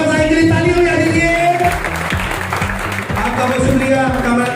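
Audience clapping breaks out at a Pakistani company event in Lahore as a guest arrives, with crowd applause under a musical backing and a loud, busy mix of sound.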